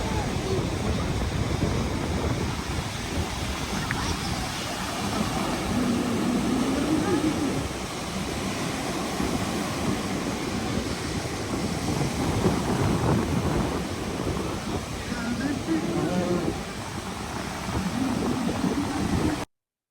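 Ocean waves and strong wind at Narragansett Beach at sunset, a continuous loud rush with surf swells rolling in and wind buffeting the microphone throughout.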